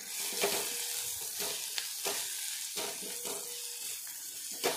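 A spatula stirs chopped capsicum coated with besan and salt in a hot pan, giving repeated scraping strokes over a soft continuous sizzle, close up with no voices.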